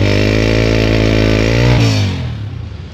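A used Honda 125 self-start motorcycle engine runs close by, a loud steady low thrum that dies away as it shuts off near the end.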